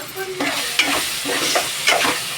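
Frying in a pan while making capsicum curry: a close sizzle with several stirring scrapes and clinks at a fairly loud level, no talk.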